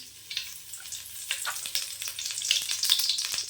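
Mustard seeds, urad dal and curry leaves sizzle in hot oil, with sharp crackling pops and spattering that grow busier over a few seconds, heard close and alone.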